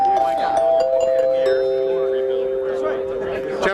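Chimes ring out to announce the start of a conference session, several sustained, ringing tones overlapping one another, heard under a busy hum of people talking nearby.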